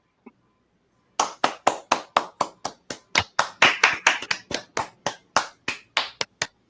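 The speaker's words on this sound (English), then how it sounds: "A round of applause." After a brief single tap, a small audience claps in distinct separate slaps, a quick uneven run of about two dozen loud, close claps with no crowd roar behind them.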